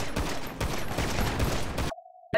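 A close, dense shootout in GTA V roleplay on the NoPixel server: rapid overlapping gunshot bursts crackle loudly for about two seconds, then cut abruptly to near silence with a thin steady tone.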